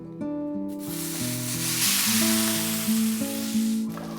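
Chow mein noodles slide into hot chili oil in a pan and fry with a steady, close sizzle beneath continuous background music.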